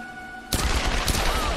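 Gunfire in Tomb Raider on PS4 erupts suddenly after a quiet, tonal moment, becoming a dense, loud volley of shots that continues to the end.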